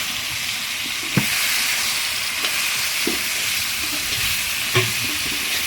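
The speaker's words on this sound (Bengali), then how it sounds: "এখন আমি এইখানে শুটকিগুলো ঢেলে দেব এখন একটু নেড়ে চেড়ে নেই" Dried fish frying in a pan on a clay stove while being stirred: a loud, constant hiss and sizzle with a few scraping knocks from the stirring, close up and without talk.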